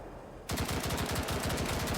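Sustained machine gun fire in the military shooter game BRM5 during a weapons training drill, starting after a half-second lull and continuing as a rapid, steady stream of loud bursts with no talking.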